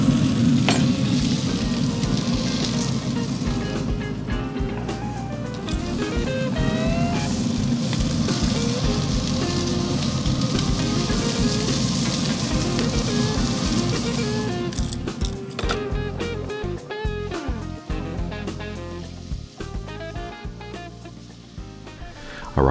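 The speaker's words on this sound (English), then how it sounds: "I'll start trying to baste it as best I can, and I'll be flipping the steak back and forth." Ribeye steaks sear with butter on a Pit Boss Pro Series 1600 griddle, a loud, sustained sizzle with spitting crackles and occasional scraping knocks from flipping, close and continuous.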